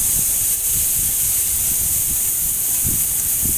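Chopped tomatoes with green chillies frying in a pan for a paneer masala, giving a steady loud sizzling hiss throughout with a few soft stirring knocks, no talk.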